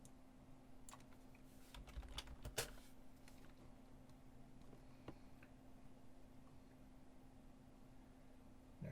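Quiet computer keyboard typing of short words in a form, scattered soft key clicks with a brief flurry in the middle, close and alone over a faint steady hum.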